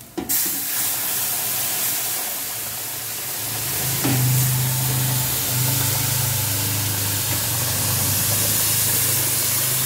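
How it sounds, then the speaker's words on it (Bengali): Hot water poured into a pan of frying khichuri sets off a loud, steady hiss and steam rush that swells midway and keeps sizzling to the end, with no talking. "এই গরম জলটা দিয়ে দেবে"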